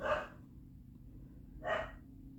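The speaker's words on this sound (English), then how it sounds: "my dogs are freaking out" Two separate dog barks about a second and a half apart, each short and sharp, slightly distant over a low steady hum.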